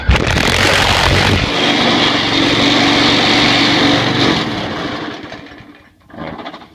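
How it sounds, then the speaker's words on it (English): An old weed eater with a bent crankshaft runs at a steady high-pitched buzzing idle close by on a patio, then winds down and sputters briefly back up at the end. "And here's this older weed eater with a bent crank."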